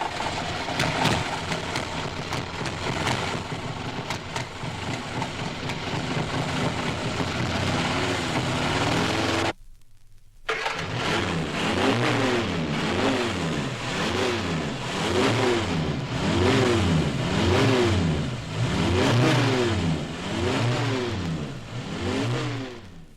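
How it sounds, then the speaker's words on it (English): A 1960s four-cylinder car engine with its spark plugs wired in the wrong firing order runs rough and uneven, rising and falling in repeated short bursts of revving after a brief cut-out. "is the noise of a four-cylinder car with its plugs connected to the distributor in the wrong order"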